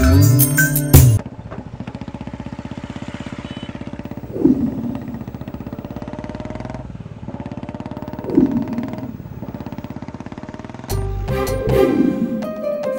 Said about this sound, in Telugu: పద, బైక్ తీ.